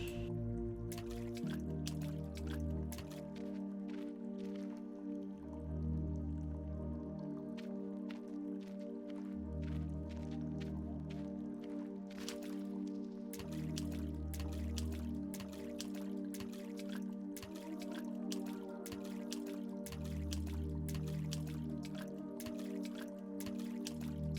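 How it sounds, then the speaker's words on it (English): Water drips and splashes inside a cave in the video game The Longing, a steady run of wet drops and squishy plops over a droning low musical bed, with no talking. "Water, Gregory walked through. First time seeing it since he's been in caves. Splish splash"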